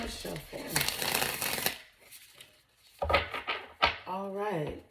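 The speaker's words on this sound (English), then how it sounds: "Let's do one more shuffle." Tarot cards being shuffled by hand, a dense papery riffling burst that runs for about a second and a half at close range, with a voice talking before and after.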